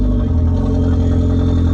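A Volkswagen MK4 GTI 20th Anniversary Edition engine idling with a loud, raspy, droning exhaust through a 3-inch catless downpipe, steady and close throughout with no talking.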